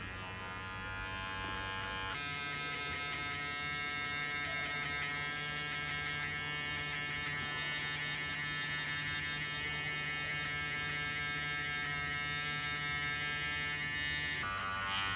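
Electric hair clippers set to 3mm buzz continuously and steadily at close range while cutting hair, their pitch shifting slightly as they move through the hair.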